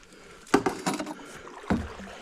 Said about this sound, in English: using a stand-up paddleboard paddle